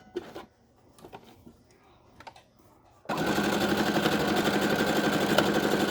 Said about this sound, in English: You're going to sew a 1/4 inch all the way around, except for where you have that pinned.